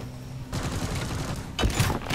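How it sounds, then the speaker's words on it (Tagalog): Gunfire in the video game Deep Rock Galactic: a burst of rapid shots starts about halfway in and runs continuously, followed by a louder blast near the end, moderately loud with no talking. "Putok yan."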